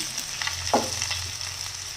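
Chopped onion dropped into a hot pan sets off a steady, close sizzle with a brief stir partway through. No one speaks.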